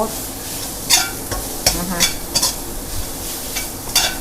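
Minced pork stir-fried dry in a pan for Thai basil pork, with a spatula scraping and clattering in quick irregular strokes over a soft sizzle, close and fairly loud, no talking.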